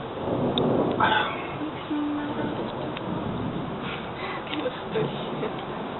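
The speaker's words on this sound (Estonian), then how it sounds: "Äike on siin." Thunder rolls during a summer storm in Estonia, a low continuous rumble that peaks near the start and fades into a lingering murmur, with brief quiet voices in the background.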